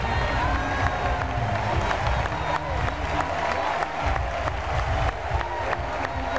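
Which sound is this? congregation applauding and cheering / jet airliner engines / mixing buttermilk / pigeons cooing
congregation applauding and cheering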